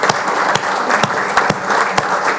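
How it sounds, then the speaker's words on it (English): Applause at an energy company's annual shareholder meeting, a full room clapping steadily with a few sharper individual claps standing out, close and loud. "please join me in a round of applause for Steve"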